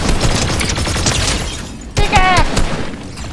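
Gunfire from a Fortnite match strikes the player's character, a dense rattling burst running throughout with a sharper impact near the end, mixed with game sounds and a voice.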